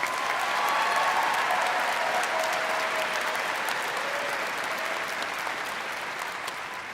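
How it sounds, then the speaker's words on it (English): Broad, steady applause from a large audience at a university commencement ceremony, continuous and even for several seconds before gradually thinning toward the end. "Please give them a big round of applause."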